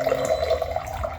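A Simpure Y10C countertop water filter dispensing ambient-temperature water into a glass, a steady soft trickling stream heard up close and alone, with no one talking.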